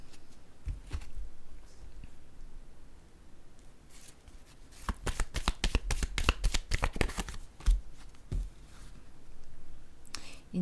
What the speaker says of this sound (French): Je vais déposer une carte sur le couple,